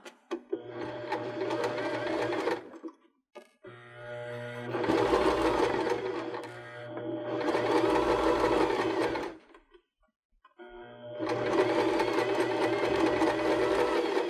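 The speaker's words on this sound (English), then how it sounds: "continue sewing the pom-pom trim around the pillow" Sewing machine running close and loud as it stitches pom-pom trim around a cork fabric pillow, in three long runs broken by short silent pauses, with no voices.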